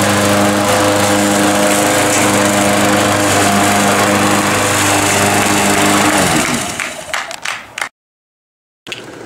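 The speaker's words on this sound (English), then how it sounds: "showed off a lot of new technologies, like this lawnmower" A lawn mower engine runs loud and steady with a strong humming drone, then winds down and sputters to a stop before a brief silence.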